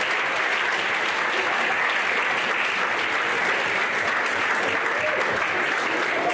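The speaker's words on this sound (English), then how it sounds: "how about a nice round of applause for them?" Banquet audience at a high school fall sports dinner applauding the kitchen staff, a steady, even wash of clapping from many hands at moderate distance, with no voices rising above it.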